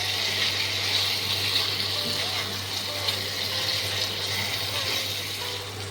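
Water is poured into a pan of Bengali dhokar dalna, a curry of steamed pea-lentil cakes with potatoes. A soft, steady pouring hiss runs for several seconds over a low background hum, fairly quiet and with no voices.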